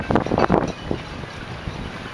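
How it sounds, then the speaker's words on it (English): Morning wind starting to pick up at Ganges on Salt Spring Island in the southern Gulf Islands, heard as steady broadband rushing with a few stronger gusts buffeting the microphone at the start. "Wind's just starting to pick up."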